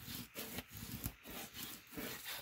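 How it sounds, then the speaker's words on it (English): A glued paper card piece is burnished down by hand with soft, quiet rubbing strokes that repeat in a steady back-and-forth rhythm, close up. "So you're going to turn it over, burnish it down."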